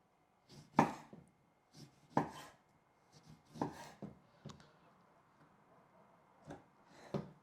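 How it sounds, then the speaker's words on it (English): A knife chops a lemon on a board for Brás-style cod, making about seven sharp, close chops at an uneven pace with short pauses between them. "Let's chop some lemon"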